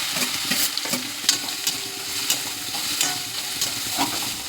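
Fennel seeds, garlic and ginger sizzle in hot oil for a meal maker gravy, a steady broadband crackle with occasional stirring clinks and scrapes, close and moderately loud, with no talking.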